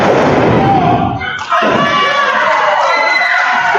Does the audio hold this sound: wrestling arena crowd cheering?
yes